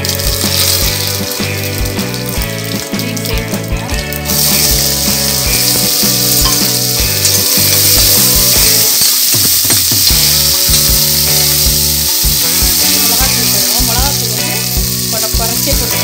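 Mustard seeds, urad dal and curry leaves frying in hot oil for a beans poriyal, a loud continuous sizzle with popping and crackling throughout, close by, with a brief surge of hiss partway through.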